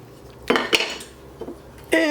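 A spoon clanks and scrapes inside a metal cooking pot while salted, peppered onions are mixed, several sharp metallic knocks and a ringing clink at the end, close by with no talking.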